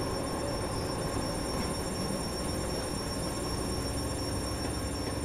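A train in a Japanese rail simulator game on the Kurama Line rolls steadily into a station, giving a continuous, even rumble of wheels and motor with no talk.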